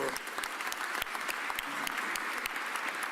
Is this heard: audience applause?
yes